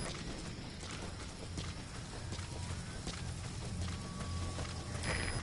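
Horse in Metal Gear Solid V gives a rhythmic clip-clop of hooves, a regular, moderately close walking beat over a low rumbling backdrop, with a faint snort near the end.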